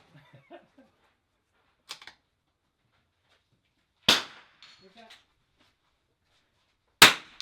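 Rifle shots at an NRL22 match ring off steel targets, with three sharp, loud cracks spaced a few seconds apart and short metallic tails. Faint scattered noises and a little quiet talk fill the gaps between them.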